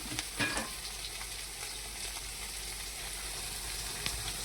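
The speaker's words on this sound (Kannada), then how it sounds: "ಉಳ್ಳಾಗಡ್ಡಿ ಚಂದ ಫ್ರೈ ಮಾಡ್ಕೊಬೇಕು ಫ್ರೆಂಡ್ಸ್" Onions frying in oil over a full gas flame for egg biryani, a dense, steady sizzle with a few sharp crackles and spoon scrapes near the start, close and continuous.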